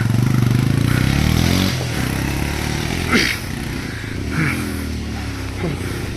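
A rental motorcycle engine runs on a road near Parasnath, a steady close idle with a harmonic drone that eases after a couple of seconds, with light clatter and scraping sounds.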